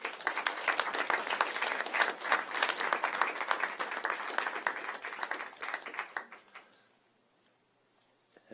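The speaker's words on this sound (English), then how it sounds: "Let's give them a round of applause." An audience at a school board agenda meeting applauds a boys 6A state champion swim team, a dense, steady burst of many clapping hands lasting about six seconds before tapering off into near silence.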